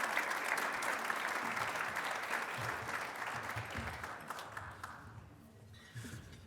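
An audience claps to welcome the University of Minnesota president at a dean's farewell event: a full, steady round of applause from a crowd in a hall that gradually thins out and fades, with a few scattered claps at the end.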